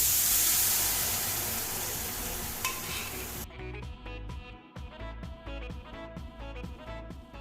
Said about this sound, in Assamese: এতিয়া ইয়াতে বইল কৰি লোৱা দাইলখিনি বাকি দিম।